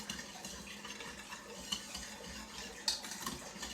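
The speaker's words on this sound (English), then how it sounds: "now let's stir this. I almost threw my whisk right on the counter." A whisk stirring breakfast batter in a bowl, with a faint, steady scraping swish and a few light clinks against the bowl's side.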